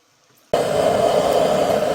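Sea waves washing onto a pebble beach on the Namhae coast beside a parked camper van, a sudden steady roar of surf that sets in after a near-silent start and stays loud and continuous.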